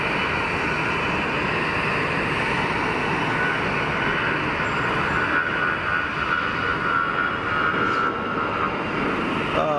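An airliner departs at Geneva Airport with a steady, broad jet roar at moderate distance that holds for about ten seconds, along with a faint higher whine.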